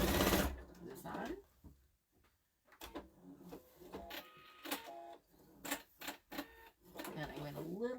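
Sewing machine stitching a Santa placemat in short runs of rapid mechanical clatter, separated by pauses and handling noises, close by and moderately loud.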